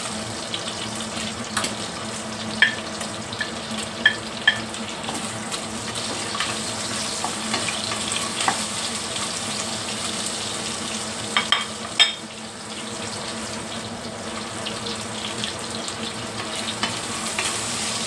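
Meat sautéing in a pan with onions, garlic and ginger gives a steady, dense sizzle that runs throughout, with occasional clinks of stirring against the pan.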